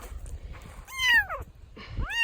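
A stray kitten found in brush cries with two clear, high, rising-then-falling meows, close and fairly loud, over faint rustling and low background rumble.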